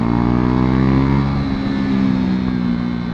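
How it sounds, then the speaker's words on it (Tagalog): A KTM Duke 390 motorcycle fitted with a Remus exhaust revs up close, giving a loud, steady harmonic engine drone that eases slightly partway through. "Remus pala yung gamit dito na ano, exhaust. Tahimik lang, kaya may ingay pa rin."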